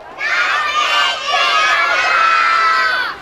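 A crowd of children shouts loudly and continuously in unison, a sustained bright roar with a brief dip before rising again, close and dominant.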